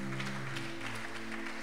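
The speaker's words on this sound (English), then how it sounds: "Give Jesus a clap offering" Applause from a church conference congregation giving a clap offering: a steady wash of many hands clapping at once, fairly faint and even throughout, over a low background hum.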